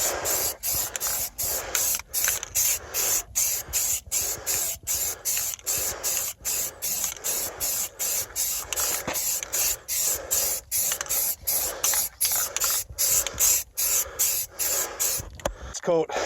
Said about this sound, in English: I'm just going to spray it on real thick now.